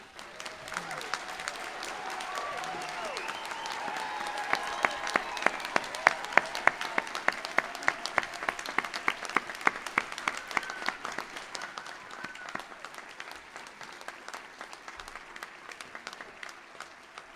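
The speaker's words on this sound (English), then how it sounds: "I'd like to invite everyone to give a special round of applause to all our graduates here today." A graduation ceremony audience at Griffith College applauds the graduates in a long, steady round of clapping that swells in the middle and slowly thins out, with faint voices underneath.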